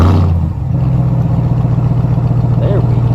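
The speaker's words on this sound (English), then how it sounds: "let's get an exhaust clip, because Hellcat engine in a truck, 702 horsepower in a truck, we just gotta hear it." A 2021 Ram TRX pickup with a 702-horsepower Hellcat engine starts by remote, with a brief crank and then a deep, loud, steady idle rumble from the exhaust close by.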